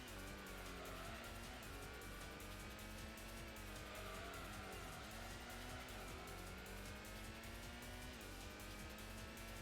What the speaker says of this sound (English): 600 horsepower of 2JZ inline 6 power.